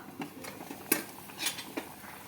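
Soft metallic clinks and scrapes of a lid being lifted from a pot of simmering urundai kuzhambu, a South Indian lentil-ball curry, with several light knocks against cookware, fairly quiet.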